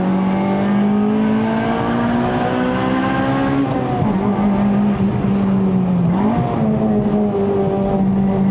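A 2008 Honda Civic Type R FD2R on a mountain road in Malaysia, its engine revving hard with steady harmonic rises and dips as VTEC engages, close and loud throughout.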